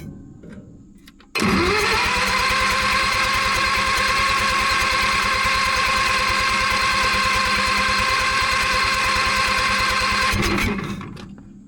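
An old diesel engine-driven welder cranks over and catches, settling into a loud, steady, close running rumble with rapid regular firing pulses for about nine seconds before cutting off.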